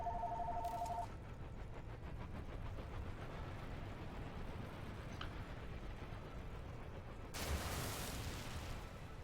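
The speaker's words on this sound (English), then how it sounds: "I'm getting a phone call, so hold on 1 second." A phone rings briefly with an incoming call, a short electronic double tone at the start, heard faintly over a steady hum of background noise with no talk.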